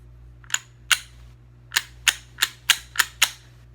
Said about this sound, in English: Press it and it racks.